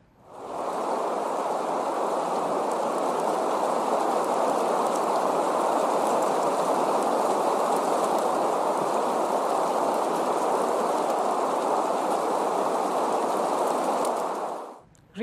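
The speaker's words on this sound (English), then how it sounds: "Green noise may sound like the flow of waves." Green noise sample: a steady, loud, unbroken wash of broadband hiss concentrated in the mids, resembling flowing waves or rain, running alone for about fourteen seconds before cutting off abruptly.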